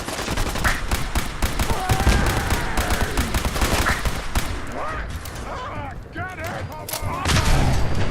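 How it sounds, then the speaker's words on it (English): Fallout 4 combat against super mutants, with dense rapid gunfire, booms and crackling bursts mixed with game effects and a voice talking over the noise. "So just going to get one of our laser rifles, or pistols in this case."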